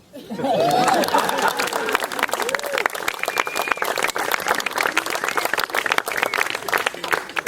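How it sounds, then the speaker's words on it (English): Wedding guests applauding at a reception, a sudden swell of crowd clapping that stays full and steady, with scattered voices, chatter and a little laughter mixed in. "So, go ahead and clap."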